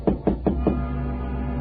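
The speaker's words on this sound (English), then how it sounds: "It was about a half hour later that I heard a tap on my door." Four quick, evenly spaced knocks on a bedroom door sound close and clear over a low steady hum, then fade into a quiet background without talk.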